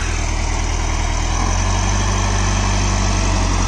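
A Mahindra Novo 605 DI 4WD tractor engine runs steadily while pulling a baler, a loud, close, continuous low diesel drone with a throbbing idle pulse that smooths out partway through.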